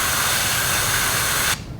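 A close, loud, steady hiss of black paint sprayed onto a crappie fishing lure, running unbroken for about a second and a half before it cuts off sharply.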